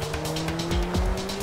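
Indycar racing car in Project CARS, a loud high engine whine holding steady while tires squeal in short bursts, close and alone.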